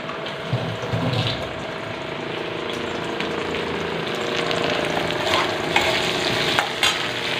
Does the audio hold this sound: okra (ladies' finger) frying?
yes